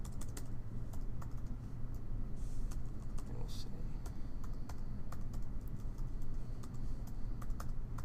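Computer keyboard keys tapped in a steady stream of light, close clicks while a password is typed, over a constant low background hum.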